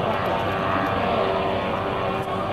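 Ultralight airplane with a wing walker flying at an airshow, its propeller engine drone steady and loud across the whole stretch, fairly close as it passes.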